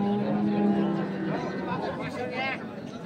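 A cow moos at a village cattle market in Dinajpur where dairy cows are sold with calves, a low drawn-out call under nearby people talking and crowd chatter.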